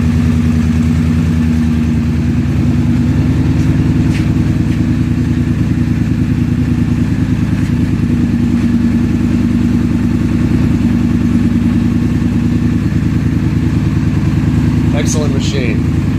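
A Polaris 850XP ATV fitted with a Hotseat exhaust runs loud and close, holding a steady, deep rumbling note, with a brief higher sound near the end.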